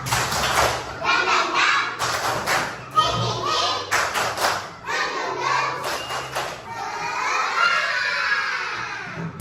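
A second-grade primary school class does a rhythmic spirit clap, with bursts of sharp clapping in patterned groups alongside children's chanting voices, close and lively, ending in a wash of chatter.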